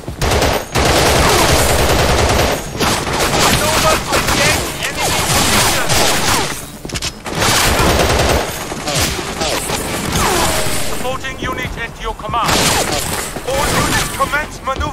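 Heavy bursts of machine-gun fire and rapid shots rattle through a Battlefield 2: Modern Combat firefight, loud and close, in long dense volleys broken by brief pauses, with game voices calling out over the shooting.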